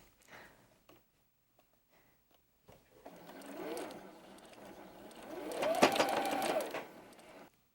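A sewing machine stitches pieced quilt block fabric, running steadily for several seconds after a few quiet handling noises; the motor hum builds toward the end and stays close and clear.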